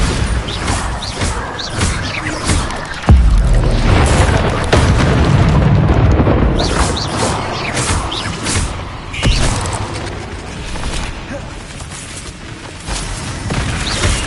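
Bombarda spell explosions in Hogwarts Legacy, a series of loud booming blasts and crashes repeating across the stretch with no talking.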